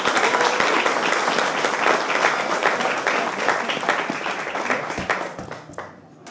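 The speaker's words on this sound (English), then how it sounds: "One last round of applause." A council chamber audience gives a final round of applause, many hands clapping steadily and densely, then thinning and fading toward the end.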